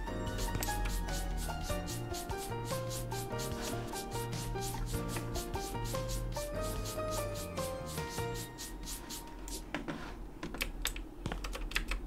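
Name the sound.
scrubbing the walls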